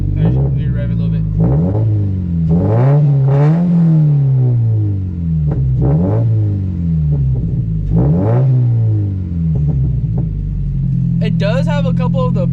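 A gutted Scion FRS with no resonator or muffler revs repeatedly in loud, close bursts, each rising then falling back to a rumbling idle, with a few burbles and a voice speaking near the end.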